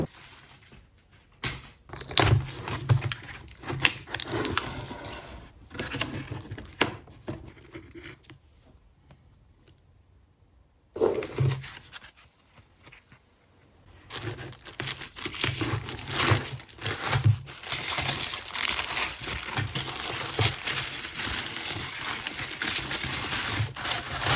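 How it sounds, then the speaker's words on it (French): A delivered package is unwrapped close by with bursts of crinkling and rustling paper or plastic, a quieter lull partway through, then steadier crumpling and tearing to the end, with no voices. "On va le déballer là."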